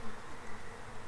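Honey bees at an opened beehive during a March hive check, a dense continuous buzzing swarm close by, steady and fairly loud with no talking.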